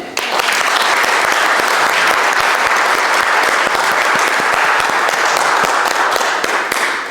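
Sustained applause from a storytelling festival audience, dense and steady clapping throughout, loud and close with no talk over it.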